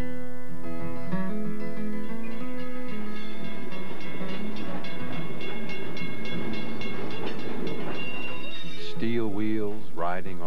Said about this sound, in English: Steel wheels riding on steel rails